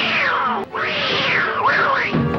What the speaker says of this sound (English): The only thing you think about when you hear that sound is a real-life cat getting hurt.